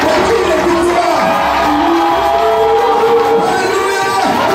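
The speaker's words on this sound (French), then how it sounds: "Des acclamations. Des acclamations. Des cris de joie. Des cris de victoire." A church congregation cheers and shouts for joy, a loud dense roar of voices with whoops and cries filling the space continuously.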